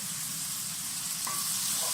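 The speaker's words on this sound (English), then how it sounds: "you're going to fry up your onions, then you're going to fry up your tomatoes first" Onions and tomatoes fry on a medium fire, giving a steady, close sizzle with a faint stir partway through and no talk.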